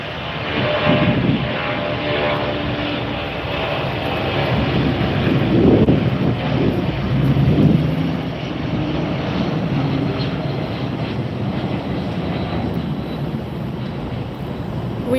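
Aircraft taking off at Tampa airport in Florida, a broad steady engine roar heard from a distance, with wind buffeting the microphone throughout.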